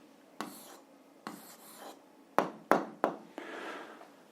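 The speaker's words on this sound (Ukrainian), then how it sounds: "Записуємо відповідь. Пишемо відповідь." A pen scratches on paper as an answer is written down for a fifth-grade maths exercise, producing several short, close scratchy strokes separated by small pauses, with no talk.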